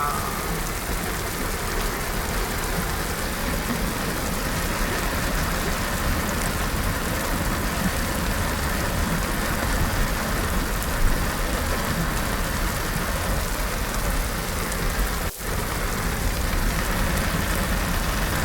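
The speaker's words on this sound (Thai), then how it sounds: "ฝนตกหนักค่ะ" Heavy rain pouring continuously during flooding in Hat Yai, Songkhla, Thailand, a thick, even roar with a faint engine hum beneath and one sharp click near the end.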